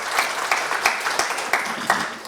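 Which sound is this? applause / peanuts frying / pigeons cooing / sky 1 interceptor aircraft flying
applause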